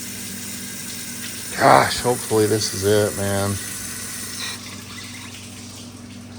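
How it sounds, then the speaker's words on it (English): Water from a hose flushes through a car engine's cooling system and radiator, making a steady broadband rush that runs throughout while someone talks over it. "We flush through the engine, we flush through the radiator."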